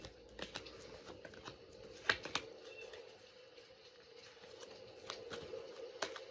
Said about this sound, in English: Do another little shuffle here.